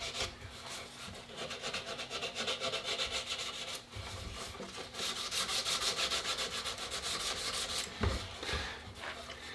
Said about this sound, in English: I don't mind getting a little bit of metal hit by the sandpaper